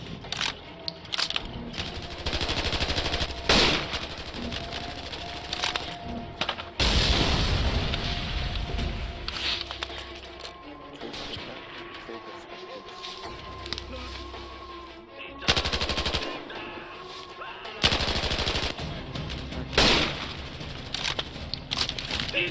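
Machine gun fire in a WW2 short film, bursts of loud broadband gunfire rising and falling over a dense background of battle noise and a steady musical drone, with shouted voices at moments.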